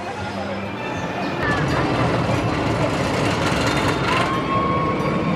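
A loud, continuous rumble of a roller coaster train rolling along its track at Cedar Point amusement park, with rattling and faint squeals, no pauses throughout.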